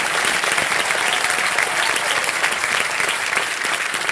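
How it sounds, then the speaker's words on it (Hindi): A studio audience at a KBC-style quiz show welcomes a new host with loud, vigorous clapping that stays dense and sustained throughout, without any talking on top. "चलिए जोरदार तालियों के साथ let's welcome our new host of KBC."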